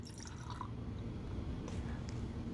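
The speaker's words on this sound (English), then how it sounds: "That's the best pour I've done yet." Bourbon poured from a bottle into a glass, a soft continuous liquid trickle with faint drips, close and quiet over a low background hum.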